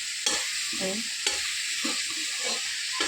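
Sliced onions with salt sauté in a hot pan for a chicken fry, a steady bright sizzle with occasional scraping stirs of a spoon against the pan, close up and without any talk.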